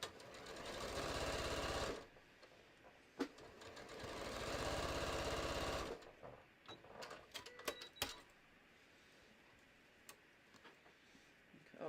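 A sewing machine quilts layers of fabric for a bucket hat, running in two loud, steady bursts of rapid stitching separated by a pause, followed by quieter handling clicks and rustles.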